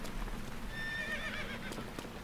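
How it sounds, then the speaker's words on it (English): A horse whinnies in The Legend of Zelda: Breath of the Wild, a rising and falling neigh over a low, steady game ambience. "oh, there's my horse."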